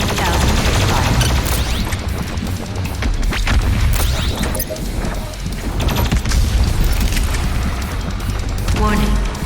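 The BFG 10,000 cannon in DOOM Eternal fires amid a dense, continuous roar of booms, crashes and rattling gunfire, loud and sustained throughout, with a voice speaking over the din.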